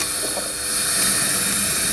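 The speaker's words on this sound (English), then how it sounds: "I'm going to have a go at tuning the burner while the kiln is heating up" A gas torch burner runs with a steady, loud roaring hiss while its makeshift air regulator is adjusted, heating a kiln; the broadband rush holds constant throughout with slight swells, no voices.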